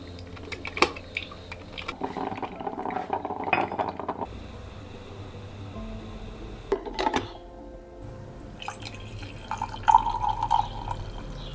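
A home water filter slowly filling a container indoors, with irregular drips and trickles of water and occasional glassy clinks, close by and moderately loud, without any talking.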